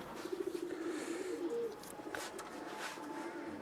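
Pakistani pigeons coo in a loft, a soft rolling coo repeating close by at low volume, with faint fluttering and shuffling in the background.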